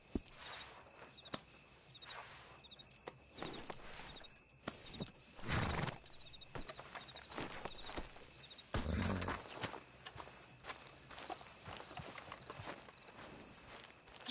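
Horse hooves clip-clop at a walk in Red Dead Redemption 2, a steady rhythmic plodding with a few louder stamps and a soft snort, close and alone over quiet ambience.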